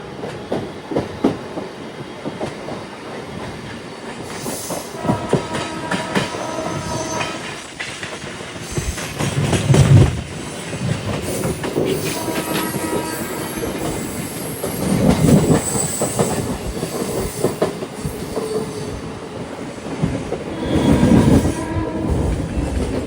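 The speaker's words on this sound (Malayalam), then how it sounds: "11:10 തന്നെ കൃഷ്ണരാജപുരത്ത് ഇതാ ട്രെയിൻ എടുത്തു." A passenger train runs on the rails through Krishnarajapuram near Bengaluru, with steady rumbling and rolling wheel noise, some squeal and clatter, and surges as it passes structures, continuous and fairly loud with no talk.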